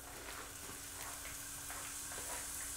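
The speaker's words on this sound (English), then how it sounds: "I'm going to bring my patty in and just go straight to cooking my patty." A burger patty sizzling in a hot pan, a steady, quiet hissing crackle with faint popping, continuous and even throughout with no talking.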